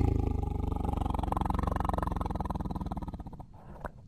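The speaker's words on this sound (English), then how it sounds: "Tiger." A tiger gives a deep, loud, sustained roar with a pulsing rumble that holds steady and then fades out after about three seconds.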